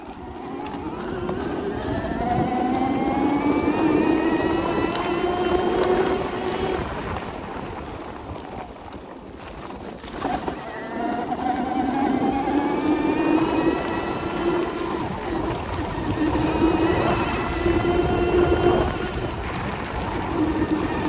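A Bafang BBSHD 72v electric bike motor running a VESC/Flipsky controller on a forest ride whines and rises in pitch as it speeds up twice, with wind and trail rumble underneath.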